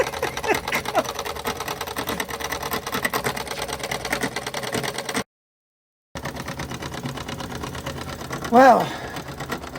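A 1924 steam engine runs steadily, turning its flywheel with a fast, even mechanical chatter close by. A short gap interrupts it midway, and someone speaks briefly over it.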